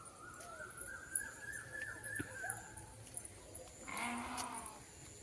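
Sheep calls ring out over a busy outdoor village background, with a bleat near the end and faint voices mixed in.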